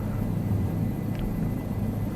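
A helicopter in Microsoft Flight Simulator, flying over Prague, makes a steady, loud engine and rotor drone that holds even throughout.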